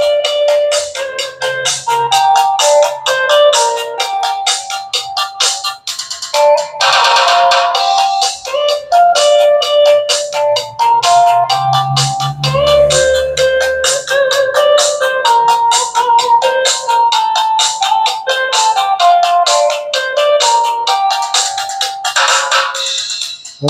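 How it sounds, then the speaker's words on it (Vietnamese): Yamaha JA4201 horn tweeter fed through an 800 Hz oil capacitor crossover plays bright, tinkly melodic music, loud and continuous, with no talking. "bây giờ mình sẽ test chức năng của phân tần để các bạn nghe"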